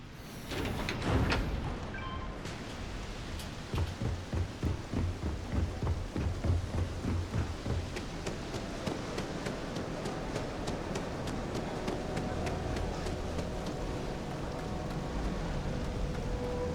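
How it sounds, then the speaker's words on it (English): Rain pours steadily in Starfield while a loud thunderclap cracks near the start and rolls off, leaving a constant wash of falling water with scattered droplet taps. "it would be nice if it would stop raining"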